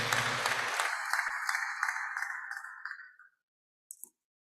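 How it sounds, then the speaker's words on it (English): Audience applause at a university inaugural lecture greets the Deputy Vice-Chancellor of Development, a dense burst of clapping that thins and stops after about three seconds, followed by a short faint noise. "Please let's give him a round of applause."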